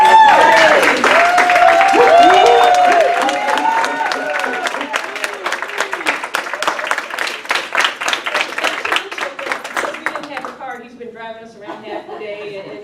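Audience at a reunion dinner clapping and cheering, starting with loud applause under excited voices, then thinning to sparse individual claps that fade out.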